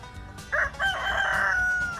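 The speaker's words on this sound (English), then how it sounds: "Carl the Rooster is the only rooster walking around downtown Ocean Springs" A rooster's single crow, clear and close, rising into a long sustained call that holds steady to the end.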